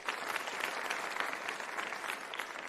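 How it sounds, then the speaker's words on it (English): Summit audience applauding themselves: steady, dense clapping from a crowd, even and sustained throughout, fairly distant and moderately loud. "Give yourselves a round of applause."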